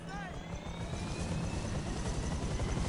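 In Grand Theft Auto V, a helicopter's rotor and engine drone continuously at a steady, fairly loud level, with someone talking over it.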